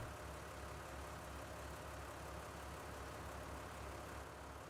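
A tractor engine in Farming Simulator 19 runs at a steady idle, a constant low rumble with a broad hiss that holds at an even level throughout, with no talking.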